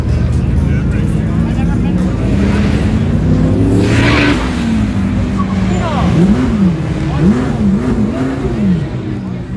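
Supercars, among them a McLaren, rev and drive at a supercar event in Barrington, their engines rising and falling in loud sweeping revs over steady crowd and traffic noise, with people talking nearby.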